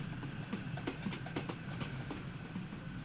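Steam locomotive pulling into a platform on the Peak Forest route in Train Sim World 5: a steady rolling rumble with rhythmic wheel clicks over rail joints, moderately loud and continuous, without talk.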